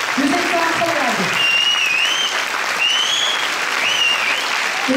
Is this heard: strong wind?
no